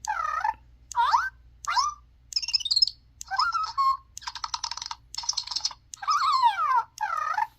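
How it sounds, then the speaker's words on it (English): A Zhu Zhu Pets hamster toy plays a run of electronic nurture sounds: about a dozen short, close squeaks, chirps and warbling trills separated by brief pauses, over a faint background hum. "it's basically the nurture sounds of Chunk, except under your own command, while the head button, it goes on its own"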